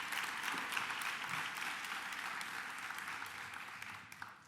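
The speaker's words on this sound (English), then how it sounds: "please give that a round of applause" Audience applause at a school funding announcement by the New York governor in Yonkers, a steady wash of clapping lasting throughout and fading slightly near the end.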